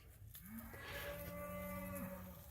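Cattle bawl on a cold morning pasture, one long, close, drawn-out moo rising and holding steady before trailing off, with a faint second animal in the background and no voices.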